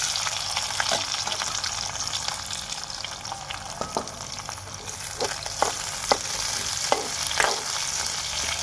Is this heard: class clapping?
no